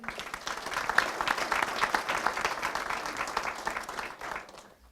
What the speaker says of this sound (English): I will give him a round of applause even though he's not here